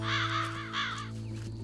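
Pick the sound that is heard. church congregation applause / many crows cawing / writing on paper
many crows cawing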